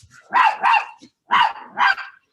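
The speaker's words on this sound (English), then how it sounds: "I couldn't hear you over the dog." A dog barks four times nearby in two quick pairs, each bark loud and sharp with a short pause between the pairs.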